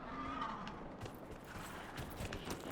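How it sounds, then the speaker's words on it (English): Horse hooves clip-clop in Dragon Age: Inquisition as a mount is summoned in the Frostback Basin, soft rhythmic steps under quiet game ambience with a brief whinny-like tone early on. "Well, let's bring out our horse."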